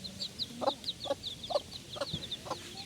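Steady low clucking from a hen, about one every half second, over a busy chorus of high peeping chicks close by.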